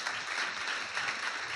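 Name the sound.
congregation clapping during church worship service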